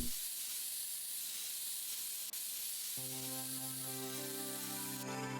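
Compressed-air spray can blasting dust out of a PC case in PC Building Simulator, a steady loud hiss lasting several seconds, followed by a bright, tonal background chime that rises in at the end.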